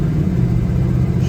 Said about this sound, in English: We're riding a 72 El Camino.